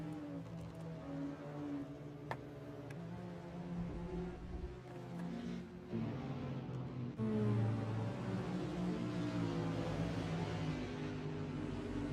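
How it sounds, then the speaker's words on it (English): Race car engines in the racing video game GT4 World Series drone and rev continuously, a layered mechanical hum of several cars, steady and moderately loud with shifting pitch. "Listen to those engines."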